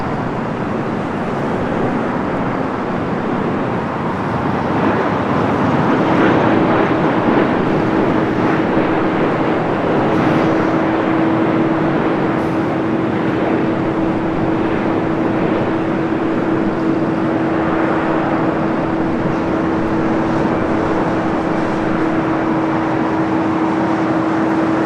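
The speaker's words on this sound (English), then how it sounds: "Japan Airlines, the flight coming from Osaka. 787-9 and Dreamliner next arrival on 24 right." A Japan Airlines Boeing 787-9 Dreamliner arriving from Osaka onto runway 24 right at LAX gives a loud, sustained jet rumble with a steady whining tone that holds throughout, no voices over it.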